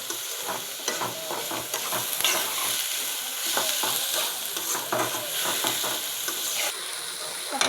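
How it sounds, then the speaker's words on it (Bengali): A spice paste sizzles and fries steadily in a hot pan while an egg curry is prepared, with repeated scrapes and stirring strokes running throughout and no voices. "দেখো তাহলে পেস্ট ভাজা হচ্ছে।"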